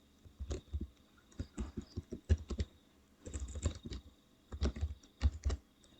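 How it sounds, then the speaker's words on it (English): Keys clatter on a computer keyboard in quick, irregular bursts of close, crisp clicks with short pauses between, including taps on the shift and enter keys. The room is otherwise quiet and no voices are heard. "if you click on shift and enter, it will create new line"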